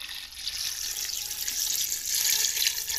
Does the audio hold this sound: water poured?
yes